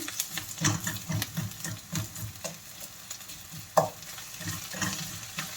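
Prawns are stir-fried with garlic and green chilli in a pan, a soft sizzle running under repeated scraping stirs and one sharper clink of the utensil, close and fairly quiet.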